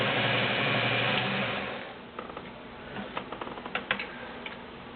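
A Kenmore model 1813 heavy duty all-metal sewing machine stitching, its steady motor hum giving way to a rapid, clattering run of needle ticks, close and moderately loud with no talk over it.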